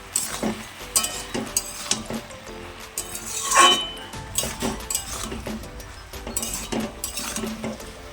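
Bottle gourd and puti fish curry with turmeric stirred in a pan, irregular scraping and clinking of a spatula against the metal with a soft sizzle underneath, close and moderately loud.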